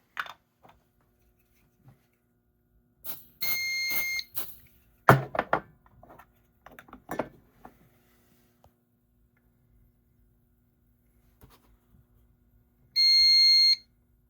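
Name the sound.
smoke detector alarm during walk test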